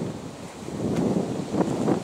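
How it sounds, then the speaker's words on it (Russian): Strong wind gusts beside the Pra river in Russia, buffeting the microphone in rough, uneven low rumbles that swell and ebb over a couple of seconds. "Ветрищ сильный."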